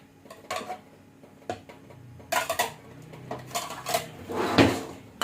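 A plate is picked up and set down among other dishes, giving several sharp, close clinks and clatters in irregular bursts with quiet gaps between.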